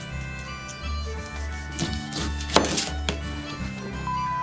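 A knife slicing the top and bottom off a pineapple, giving a few dull chops and crunchy cuts at close range over a steady background hum.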